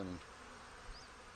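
Honey bees buzz around a hive, a soft, steady insect drone that stays faint and continuous after a brief low thump at the start, with no talking.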